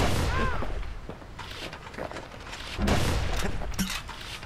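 Sniper rifle shots crack in the game Bastion, a few loud booming blasts with clattering mechanical noise, heavier bursts near the start and again later.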